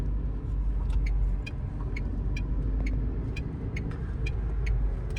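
A car engine in first gear drones steadily at a low pitch under heavy throttle, with a constant rumble and faint ticking on top, heard from inside the car.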